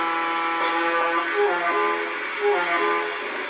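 An O-gauge model steam locomotive's horn sounds in several short, wavering chord blasts, loud and close, with a steady hiss underneath.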